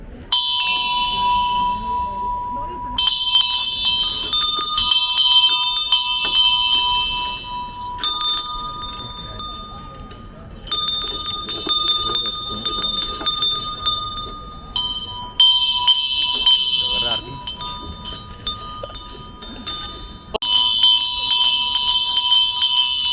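Bell ringing at a flash mob in Savona, Italy, with repeated bright metallic strikes in bursts separated by short pauses; a crowd murmurs and a voice talks faintly underneath.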